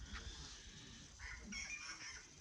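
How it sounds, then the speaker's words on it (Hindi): Perched in a tree by an orchard on a sunny morning, a bird gives several short, fairly faint calls over soft outdoor background noise. "इतनी जोर जोर से चहचहा रहा है नहीं पक्षी, वहाँ ऊपर पेड़ में बैठा है देखो"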